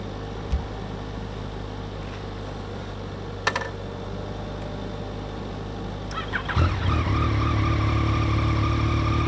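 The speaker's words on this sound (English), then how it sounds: "We've got an AMG turbo 2-litre Mercedes, and then we've got a bike." Outdoors near an airbase, a turbo 2-litre Mercedes-AMG car and a motorbike rumble at a low, steady level, then the noise swells into a louder, fuller engine roar partway through.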